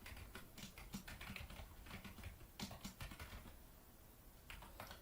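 Rapid clicking of keys on a computer keyboard, quiet and close, in uneven bursts with brief pauses between.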